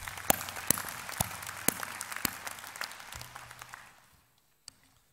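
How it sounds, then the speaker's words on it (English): An audience at a university graduation ceremony in Hanoi claps in a steady wash with a few sharp nearby claps, then fades out to near silence, leaving one last isolated clap. "Let's give them a round of applause too."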